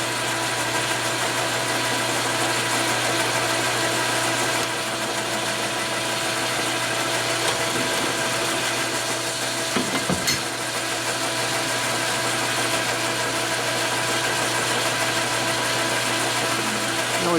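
A metal lathe cuts steel stock for a flywheel truing tool used on Milwaukee-Eight, Evo and Twin Cam crankshafts, running too fast, giving a steady close mechanical drone and hum with a brief louder scrape midway.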